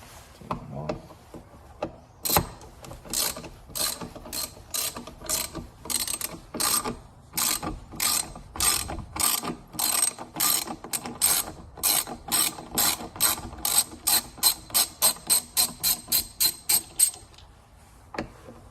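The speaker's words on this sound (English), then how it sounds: "now you gotta take off these 4 T15 screws that actually holds on to the motor" A ratchet backs out four T15 screws holding a motor on an L5P truck, its rapid pawl clicks coming in close bursts that grow steadier and more regular toward the end.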